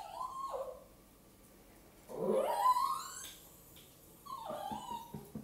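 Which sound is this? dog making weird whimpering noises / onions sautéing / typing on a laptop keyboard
dog making weird whimpering noises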